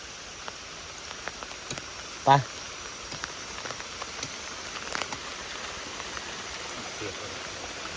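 Rain falls outdoors in the countryside, a soft, even patter on surfaces that stays faint and distant throughout, with a short spoken word near the middle.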